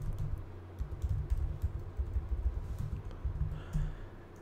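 Typing on a computer keyboard while writing Python code, with rapid, uneven keystroke clicks and short pauses, close and fairly soft, and no voice.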